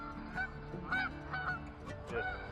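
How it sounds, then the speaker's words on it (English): Several geese honk in short repeated calls along the Watauga River, about four clear honks over a low steady background, moderately close. "gotta let these geese get through."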